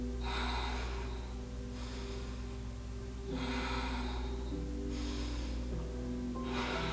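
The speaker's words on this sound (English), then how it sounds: "we're going to hold it here for 3 deep breaths" Slow, deep breaths during a held power yoga pose, close and quiet, with several long airy inhales and exhales spaced a few seconds apart over a low background hum.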